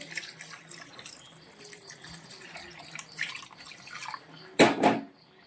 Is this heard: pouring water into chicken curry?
yes